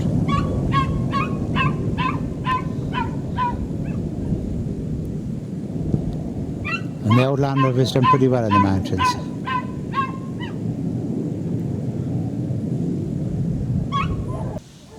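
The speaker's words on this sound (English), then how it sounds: "Sorry the dogs are kicking up such a racket in the background." Several dogs bark repeatedly inside an old Land Rover on a mountain drive, sharp barks recurring throughout over the engine rumble, with someone talking.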